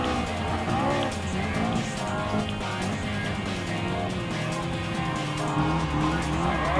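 Race car engines roar continuously with tire squeal while overtaking in Gran Turismo Sport, a McLaren MP4-12C among them, loud and steady throughout with no talk.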